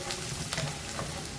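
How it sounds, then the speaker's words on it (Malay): Garlic sautés in a little hot oil in a wok, a soft steady sizzle with faint stirring scrapes, quiet and close with no talking. "Tumiskan bawang putih ni hinggalah naik bau"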